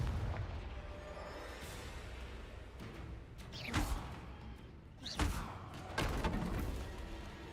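In Hogwarts Legacy, a Confringo fire spell is cast. It makes a few muffled, fairly faint explosive booms with short whooshes, spaced a second or so apart over a low rumble.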